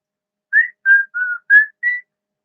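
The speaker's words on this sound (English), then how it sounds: "can I whistle? Okay. Yes, I can." A person whistles five short clear notes in a slow, even sequence, alone and close, with silence before and after.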